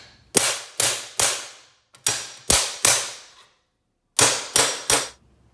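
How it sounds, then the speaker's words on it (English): A small hammer strikes sheet metal along a scribe line under a clamped plate, bending it in three groups of sharp, ringing metallic bangs with a loud, close, rhythmic pattern. "take a little hammer and bangity bang, get the bend going on the scribe line"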